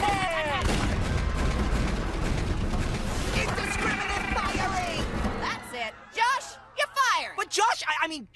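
Rapid gunfire bursts in a chaotic animated TV shootout, dense and loud at first, then giving way to scattered whistles and effects, with voices mixed in.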